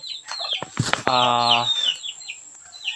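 A red junglefowl from a backyard breeding flock clucks nearby with a few short calls, then a longer, ringing squawk, and more soft clucks trail off.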